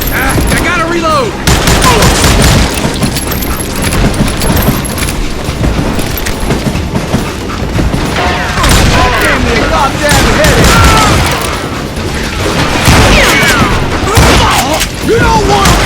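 Heavy gunfire in the Wild West shooter Call of Juarez Gunslinger, dense overlapping shots and bursts rattling continuously and loudly, with shouted in-game voices over the battle.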